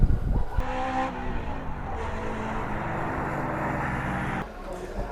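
A 1969 Porsche 911T drives on a race track, its engine a steady, loud drone heard from inside the car, with a brief shift in tone near the end.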